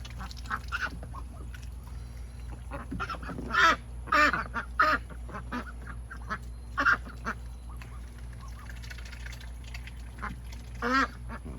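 A flock of pet ducks quacks in scattered bursts, several loud calls close by over a steady low hum, with quieter chatter between them.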